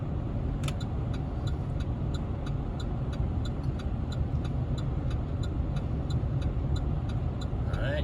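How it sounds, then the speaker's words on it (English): A car's turn signal ticks quickly and evenly over a low rumbling engine drone inside the moving car; no one speaks. "You hear that noise still going? Turn signal is still on."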